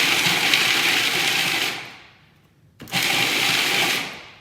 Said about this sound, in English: Just enough oil so the almonds can get nicely chopped.